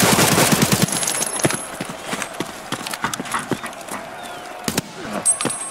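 A firefight in an Escape From Tarkov Arena match, with a fast volley of close, sharp shots at the start, then scattered single cracks and clicks against faint background noise.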